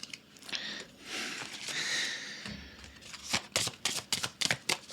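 Tarot cards being shuffled, a soft sliding rustle that gives way to a quick run of crisp riffling flicks, close and fairly quiet.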